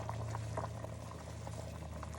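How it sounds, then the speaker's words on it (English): Steady bubbling of boiling water as turnip greens are dropped in, with soft splashes and a low hum, continuous and close, no talking. "Now we're gonna drop the turnip greens in the water."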